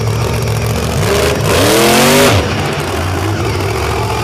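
A stunt truck's engine revs hard at a Lake Erie Speedway thrill show, its pitch climbing in one loud, close surge before easing back to a steady idle.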